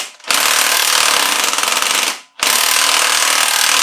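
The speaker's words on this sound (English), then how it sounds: "make sure you put it into full impact mode" An impact wrench in full impact mode hammers on the crankshaft of a 6.0L engine being rebuilt in a barn, producing two long, loud, rattling bursts separated by a brief pause.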